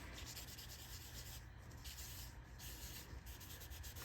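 White pigment ink is rubbed off dark embossed cardstock in a steady, close, gentle scrubbing that carries on without pause.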